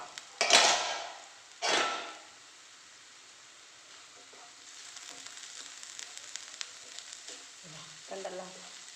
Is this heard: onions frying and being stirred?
yes